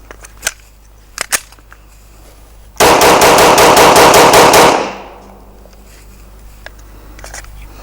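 A Glock 17A Gen 5 9mm pistol fires ten rounds in a fast, continuous string of loud reports lasting about two seconds. A few quieter handling clicks come before the shots, and a fading echo follows them.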